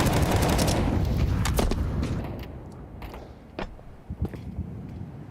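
Rifle fire from an M4 in a professional Counter-Strike match, a dense burst of rapid shots at first that thins into a few scattered sharp cracks, heard without talk.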